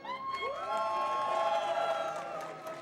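A live crowd at a speedrunning event cheers and whoops after a finished run, a sustained wash of voices and shouts at moderate distance that swells and then tapers off.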